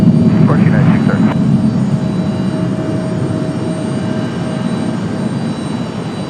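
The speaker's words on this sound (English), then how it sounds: "United 630 off to Chicago O'Hare, 737-700, delivered back in June of 1999" A Boeing 737-700 airliner bound for Chicago O'Hare roars on its takeoff run at Raleigh-Durham, a loud, steady engine rumble that starts strongest and eases slightly as it continues, with brief voices audible early on.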